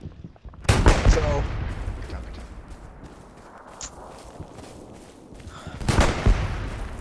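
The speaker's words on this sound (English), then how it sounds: "I can see the guys shooting and loading." Gunfire from shooters in a video game: two sharp, loud shots about five seconds apart, each trailing off into a fading rumble.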